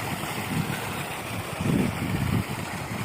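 Water gushes at high flow from a pump pipe, a dense, steady roar with low surging swells, close and continuous without any voices.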